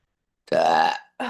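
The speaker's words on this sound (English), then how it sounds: "I do burp as a healing" A single loud, close human burp, long and throaty and fading off at the end, followed by the brief start of a second one.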